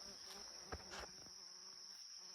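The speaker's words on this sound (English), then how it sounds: "I just hear the buzz, buzz, buzz of the pollinators." Bumblebees and other pollinators buzzing faintly in a summer vegetable garden, with a steady high insect drone throughout and a couple of brief nearer buzzes.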